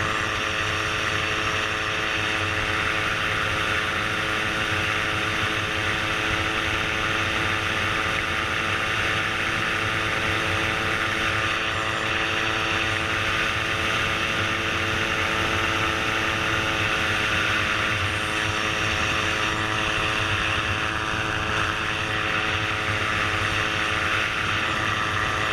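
A gyroplane's engine and propeller drone loudly and steadily in flight, a dense unbroken buzzing roar with strong tonal harmonics that holds constant from start to finish with no talk.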